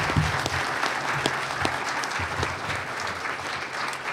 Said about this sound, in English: can we please give a round of applause to the great panel here?